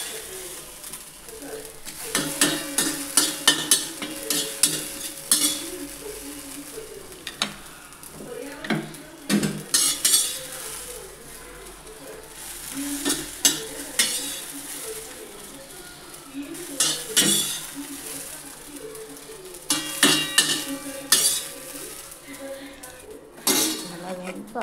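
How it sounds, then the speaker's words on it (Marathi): Khichdi being scooped from a pot onto a plate: intermittent clinks and scrapes of a spoon against metal cookware in irregular bursts, fairly quiet, with soft room noise between. "तर आता मी ही खिचडी घेते प्लेटमध्ये काढून"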